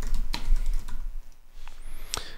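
Someone types on a computer keyboard close by, a short run of quick clicks and keystrokes with a brief pause in the middle.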